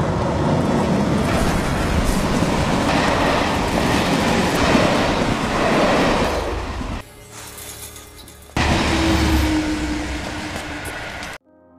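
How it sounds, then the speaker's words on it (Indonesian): A train rolls past on rails, loud and close with steady rumbling and clatter, then the sound dips sharply and returns before cutting off; no talking is heard. "Ketika kereta yang keempat melintas"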